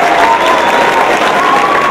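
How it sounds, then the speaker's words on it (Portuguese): An audience at a school theatre performance applauds the teacher with dense, steady clapping that fills the whole moment, loud and close, with no break. "Peço a salva de palmas para a professora."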